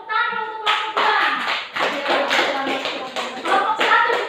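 Students in a classroom clap for a group, brisk uneven hand claps building into a loud burst of applause, with a brief higher tone before it starts.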